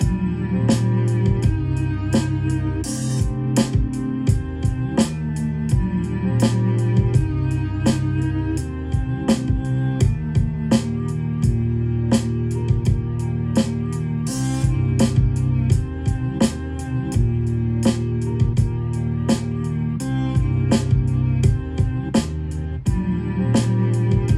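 A looped drum beat programmed on a Roland SP-404 sampler plays steadily with punchy kicks and crisp hits over a sustained musical backing, loud and even throughout, no talking.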